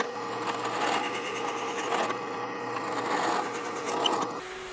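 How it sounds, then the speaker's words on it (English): Rhythmic rasping strokes of 80-grit sandpaper rubbing wood, removing tooling marks from chair slats, repeated back and forth at a steady pace, close and fairly loud, stopping abruptly at the end. "First I sanded with 80 grit paper to remove a bunch of the tooling marks"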